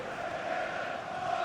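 A stadium crowd roars in the FC26 football video game, a steady, broad wash of cheering that holds at one level for a moment without breaks.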